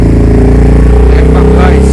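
A Kawasaki W175 motorcycle engine running loud and close, with a steady low thumping idle throughout the short stretch right after a restart, no talking.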